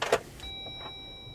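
A Jeep Wrangler 4xe plug-in hybrid starts on battery power alone: a brief mechanical clunk is followed by a faint, steady high-pitched electric whine, with no engine firing.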